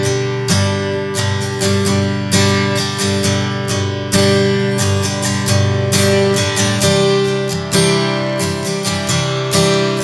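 Acoustic-style guitar strummed in a steady repeating down-up pattern for a slow song, chords ringing clearly and alone with regular rhythmic strokes.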